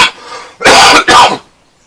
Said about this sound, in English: it's still got a nasty cough, as you can hear